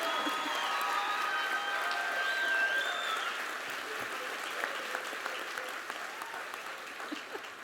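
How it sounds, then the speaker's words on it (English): Audience applause at a 2019 police department awards ceremony, honoring a Civilian of the Year; steady, moderately loud clapping from a crowd that slowly thins and softens toward the end, with a few whistles or cheers early on. "Let's give a round of applause for her."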